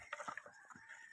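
Several chickens clucking close by on a pig farm, a quick burst of short calls followed by a few scattered softer clucks.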